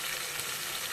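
Onions and tomatoes fry in a pan for Senanguni kuzhambu, giving a steady, soft, close sizzle that runs evenly through the whole second with no voices.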